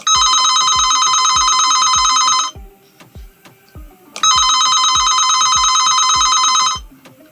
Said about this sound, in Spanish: cómo nos indica que hay alto voltaje y el teléfono timbra